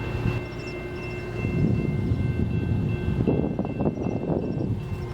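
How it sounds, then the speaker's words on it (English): A train passing at a crossing while a vehicle waits behind it, a steady low rumble with rhythmic clacking of railcars and faint high tonal hums, continuous and fairly close. "Stuck behind a train."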